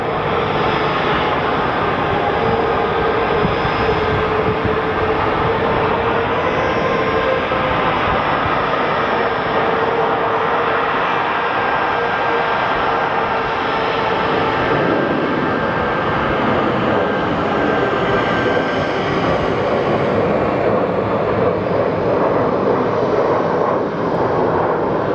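A jet airliner's engines roar steadily at Sky Harbor Airport, a loud sustained rumble and whine that holds for about 25 seconds without a break.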